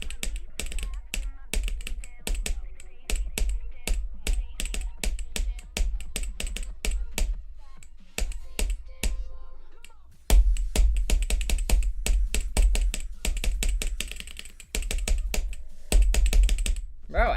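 Close, crisp keystrokes on a computer keyboard clatter in rapid, uneven bursts, pausing briefly midway before resuming even faster and louder.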